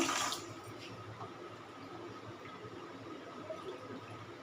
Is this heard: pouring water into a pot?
yes